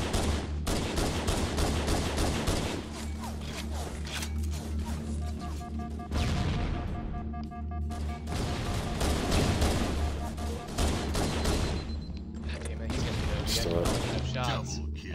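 Gunfire from a first-person shooter video game, dense overlapping shots and explosive bursts running throughout, loud and close, with players talking over the action.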